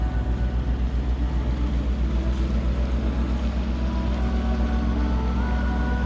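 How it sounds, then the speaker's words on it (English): A motorboat engine runs steadily on Lough Derg in County Donegal, a loud, continuous low drone with a slight rhythmic pulse and no voices over it. "That young boys driving that boat"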